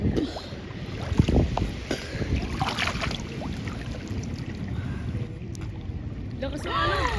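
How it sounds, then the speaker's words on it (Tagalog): Big ocean waves and gusting wind surround a boat at sea, a steady rushing wash with wind buffeting the microphone and occasional slaps, while people speak and exclaim over it. "Lumalakas na yung alon."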